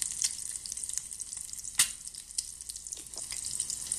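An egg frying in a pan, a soft, close crackling sizzle with scattered sharp pops and spits over a steady hiss.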